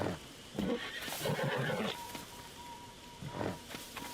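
A horse in a video game whinnies several times, short bright calls over a faint background, with occasional quiet talk mixed in.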